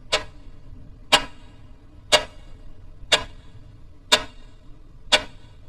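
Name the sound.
clock ticking, seconds hand, in horror story narration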